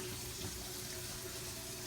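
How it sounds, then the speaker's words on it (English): A kitchen faucet runs into a sink with a steady, even hiss of flowing water. The sound is continuous and fairly quiet, with no talking. "So let's turn on the water"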